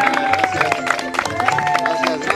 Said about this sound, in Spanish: El aplauso para mi amigo Guiñac.